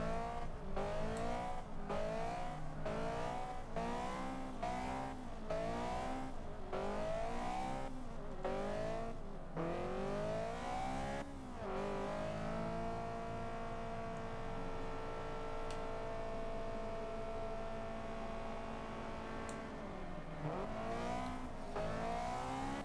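A race car in Forza Motorsport 6 dives into the pits after contact near a tyre wall. The engine revs in repeated rising bursts through the gears, then settles into a steady droning hum before a final dip.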